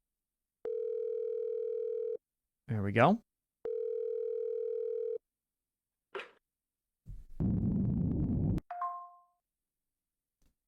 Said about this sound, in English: Okay, so now we call the number on this phone.